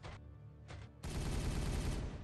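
Sustained rapid gunfire in a video game fills most of the clip, after a couple of short bursts at the start; loud and dense, like automatic weapons.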